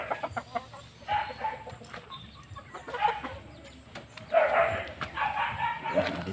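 Chickens on a small Filipino farm near a calf give scattered clucks and short calls at mid distance, mixed with rustling and a faint dog-like yelp, with no talking.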